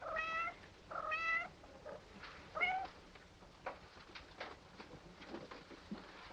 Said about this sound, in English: My poor kitties.